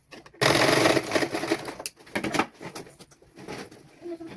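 A sewing machine stitches a child's dress at a basic tailoring lesson, running in a loud burst near the start, then in shorter uneven runs and pauses at close range.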